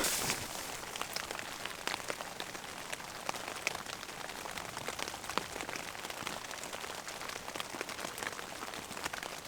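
Heavy rain pours down in a Swedish forest, a dense, steady hiss of drops pattering on surfaces and foliage close by, continuous and loud throughout with no voices.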